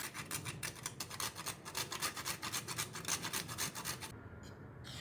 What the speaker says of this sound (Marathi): आता याच्यामध्ये थोडंसं आपण अगदी वेळेवर जायफळ किसून घालणार आहोत.